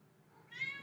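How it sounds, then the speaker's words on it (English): A cat meows once in the background, a faint, drawn-out cry that rises after a quiet pause in a room. "I apologize for my cat in the background."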